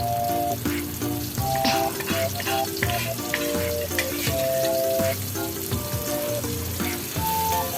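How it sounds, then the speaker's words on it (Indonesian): Garlic and shallots sautéing in a pan together with ground spice paste, a steady bright sizzle and crackle throughout, while music plays over it. "masukkan bawang putih dan bawang merahnya, ditumis bersamaan dengan tadi bumbu halusnya"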